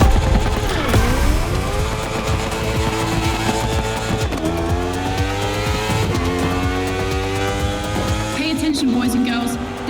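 A Red Bull KTM motorcycle races in The Crew Motorfest, its engine loud and close, rising in pitch through repeated gear shifts, with a brief tire squeal near the end.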